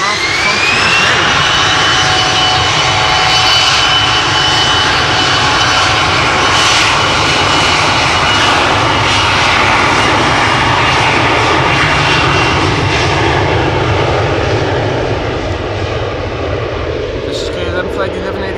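KLM passenger jet taking off at Amsterdam Schiphol Airport, a loud sustained engine roar with a rising whine, steady and powerful throughout, heard from fairly close.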